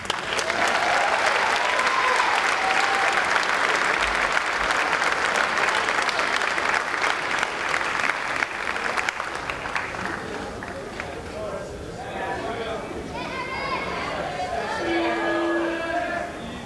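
Applause at a senior athletic awards ceremony for four scholarship recipients, a steady crowd clapping that gradually tapers into murmuring chatter and talk as it dies down.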